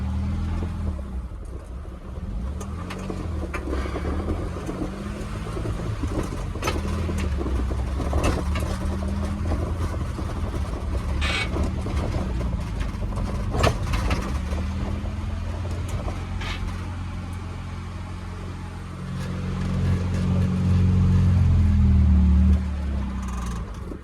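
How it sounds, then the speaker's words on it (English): A car engine fitted with an automatic choke idles high and revs fast in a steady drone, then surges louder near the end. "Yeah, it's really revving fast."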